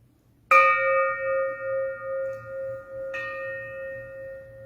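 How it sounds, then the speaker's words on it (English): An oxygen cylinder is struck like a gong twice, each hit ringing out in a long, pure, pulsing tone that slowly fades. "I'm going to ring the gong for you."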